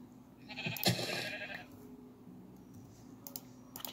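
In a video game, a sheep gives one close, wavering bleat, heard alone amid quiet keyboard clicking and a few faint clicks toward the end.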